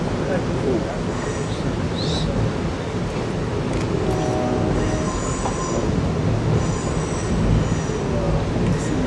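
The Coast Starlight passenger train rolls past with a broad rumble of railcars, wheels squealing in brief high whines over the steady clatter, heard from nearby.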